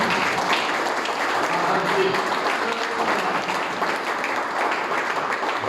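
Congregation applauding during a church service in Port Mathurin, Rodrigues, a steady dense wash of clapping lasting throughout, with voices mixed in.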